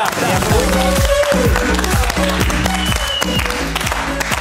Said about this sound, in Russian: Аплодисменты, да.